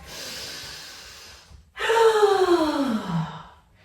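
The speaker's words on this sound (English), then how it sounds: "Take a big, loud breath." During a yoga flow, a person takes a loud, close breath: a soft airy exhale first, then a brief pause and a big, strong, audible inhale-sigh that trails off.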